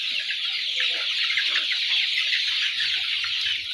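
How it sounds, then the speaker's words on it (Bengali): Forty-day-old brown cockerels in a coop cluck and chirp continuously in a dense, close flock chorus, with no pauses and no voices. "তো এই যে হচ্ছে আপনার এক ঘরের মুরগি"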